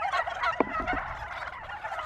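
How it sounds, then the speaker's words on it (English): Turkeys gobble in a quick burst of rattling calls over steady background noise, with a couple of shorter follow-up gobbles. "The turkeys keep coming back."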